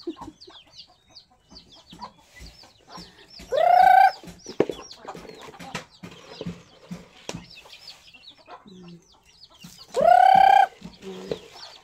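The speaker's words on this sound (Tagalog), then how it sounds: "Magpakaon tayo ng manok." Chickens cluck and murmur close by, with two loud rooster-like squawking calls standing out over the steady clucking.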